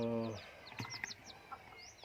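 Newly hatched chicks chirp in quick, high, repeated peeps close by, one harsher call at the start, with someone talking briefly underneath.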